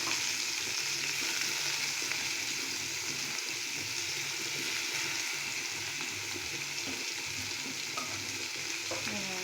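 Shredded cabbage and potato fry in a pan, a steady loud hissing sizzle that runs unbroken with faint scraping of the spoon through the vegetables; no talk.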